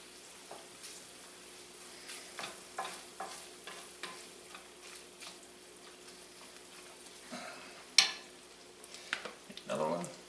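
Refried beans being worked into cooked ground beef in a pan for a hamburger quesadilla, giving soft intermittent scraping and stirring strokes over a faint sizzle, with a sharper clatter of the spoon near the end.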